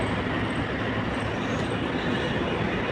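Metro train at a station, heard as a loud, continuous rumble of wheels and rail noise that fills the whole stretch with no pauses.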